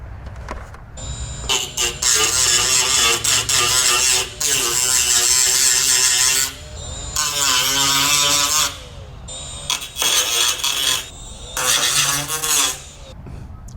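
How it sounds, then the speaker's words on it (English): A cutoff wheel grinds through the rusty sheet metal of a C10 pickup truck's door jamb in several loud, close bursts of high whining screech separated by short pauses. "Use the cutoff wheel where we need a corner."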